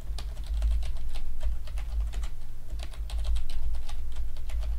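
Fingers type rapidly on a computer keyboard at close range, producing a dense run of crisp key clicks over a low steady hum, with no voices.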